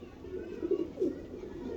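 A domestic pigeon, a dab wali female, gives a soft cooing call twice at close range, low and throaty, with little else around it.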